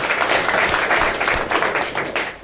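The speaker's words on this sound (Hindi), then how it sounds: "एक बार जोरदार तालियां।" Loud applause from a seminar audience in a hall, a continuous wash of many hands clapping with slight surges, heard close throughout.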